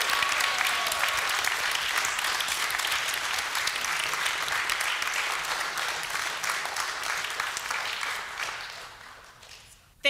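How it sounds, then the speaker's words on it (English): A church congregation claps for its faithful teachers at Sunday worship, giving sustained, dense applause from a large room that holds steady before tapering off near the end. "So now let us clap for all these faithful teachers."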